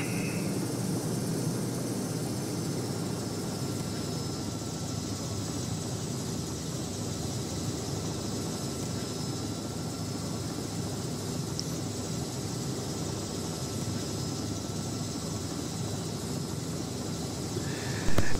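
A Robinson R66 helicopter in a flight simulator, flying after takeoff from Powerscourt, gives a continuous even rotor and engine drone. The whine holds steady the whole time, with no talking.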